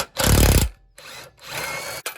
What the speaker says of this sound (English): I'll finish up with the impact gun